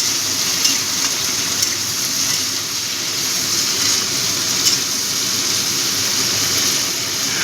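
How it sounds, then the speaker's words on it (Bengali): Steady, loud sizzling of okra frying in a pan as salt is stirred in, a continuous hissing with faint scrapes and no speech. "নুনটা ভালো করে মিশিয়ে দেবো।"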